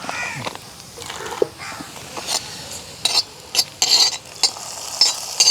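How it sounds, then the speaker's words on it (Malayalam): Curry leaves sizzling in hot oil to temper an Angamaly-style mango curry in a village kitchen, giving crackling bursts and sharp spits that grow louder and denser toward the end, with no talking. "വേപ്പിലിട്ട് ആയിപ്പോട്ടെ സൗണ്ട് മതി"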